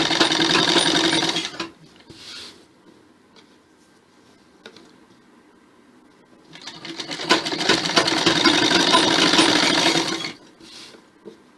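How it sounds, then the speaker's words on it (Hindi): Loud, fast rhythmic whirring of a sewing machine joining two salwar panels, running in two long bursts separated by a quieter pause with light handling noises. "इन दोनों को पकड़ के आप सिलते हुए चले जाएं।"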